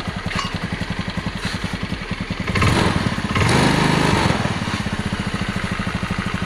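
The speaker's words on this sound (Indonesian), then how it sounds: "jadi mesinnya ini masih enak juga kita dengar, dan mantap juga" A Honda BeAT automatic scooter engine runs steadily nearby, a rapid, even idle chug that swells briefly louder twice as the throttle is blipped, then settles back, with no voices over it.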